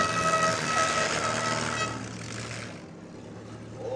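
Loud air horn blasts at an outdoor demolition derby in Morris, New York, sustained and then trailing off over heavy crowd and engine noise.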